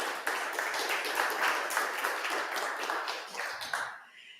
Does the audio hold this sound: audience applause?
yes